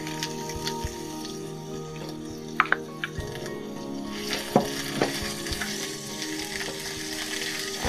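Ginger paste frying with cumin seeds and a torn bay leaf in a pan, a steady close sizzle with occasional stirring scrapes and small pops, no voices.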